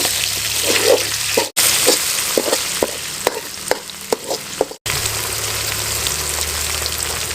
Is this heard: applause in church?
no